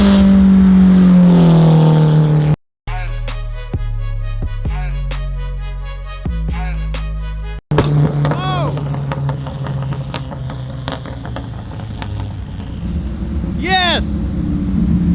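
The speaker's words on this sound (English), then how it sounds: "Listen to this compressor just singing." Turbocharger compressor on an SR20DET engine fitted with an EFR 6758 turbo in a 240SX S13, singing as a loud, steady engine drone with rising whine and revs, with voices talking over it.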